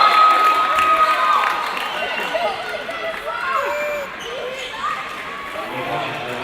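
Crowd at a semi-final basketball game reacting to an air ball, a loud, continuous roar of cheering and shouting voices filling the gym, with a commentator talking over it.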